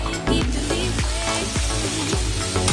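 Tomatoes sautéing in oil for a roadside-style salna, with a loud close sizzle and repeated rhythmic scrapes of a ladle against the pan and no voices.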